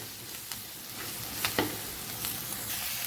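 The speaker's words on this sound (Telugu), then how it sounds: "పచ్చివాసన పోయేదాకా గోలించుకోవాలి" Turmeric, ginger-garlic paste and asafoetida frying in a pan with a steady low sizzle, broken by a few brief stirring scrapes and spatters, alone with no talk.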